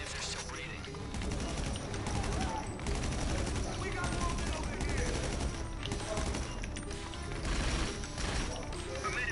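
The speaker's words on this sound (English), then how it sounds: "I recommend using the Gunsberg sweeper, because it's a really good gun" Rapid Gusenberg Sweeper submachine gun fire in a video game, sustained bursts of dense rattling shots with clattering impacts that continue throughout, fairly quiet and steady.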